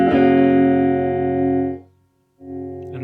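Electric guitar run through a Klon Centaur pedal with its clipping diodes removed, a loud sustained chord ringing for nearly two seconds, dropping to silence, then a new strum returning.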